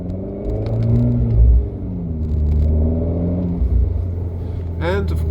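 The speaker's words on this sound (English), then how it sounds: "There's no turbo 4-cylinder that sounds better" An Abarth 595C convertible's turbocharged four-cylinder engine revs in rising and falling swells, loud and close, with a deep rumble throughout and a brief higher whine near the end.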